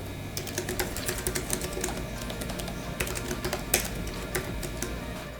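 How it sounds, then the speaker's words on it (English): Quiet, rapid keystrokes on the detachable keyboard of a Doogee T30 Pro tablet, a steady soft clicking run with a few sharper taps, heard alone with no voices. "The keyboard is fairly quiet, the buttons are responsive and typing feels really good."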